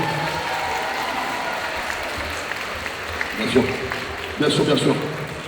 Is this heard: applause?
yes